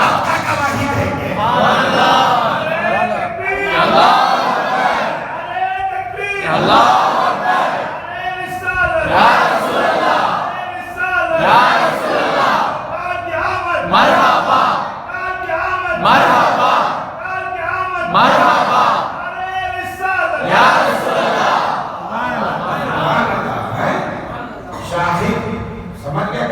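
At an Eid Milad un Nabi gathering, a large crowd chants religious slogans in loud, rhythmic call-and-response waves that repeat steadily throughout.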